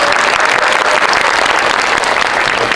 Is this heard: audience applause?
yes